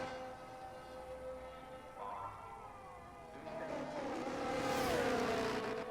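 An F1 23 race car driven in the video game at the Saudi circuit, its engine a steady tonal whine that rises in pitch and intensity toward the end as it rounds the final corner, with commentary faintly underneath.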